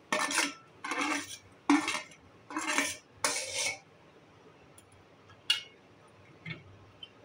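Fried sitabhog, a Bengali sweet, is transferred into sugar syrup with five rhythmic metallic scraping clinks against a pan, followed by a few lighter, isolated clinks.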